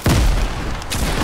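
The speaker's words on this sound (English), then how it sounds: "Oh, I'm getting hit by grenades." Grenades burst during a Fortnite match as a loud, booming blast with a dense rumbling tail, followed by a second thud about a second later.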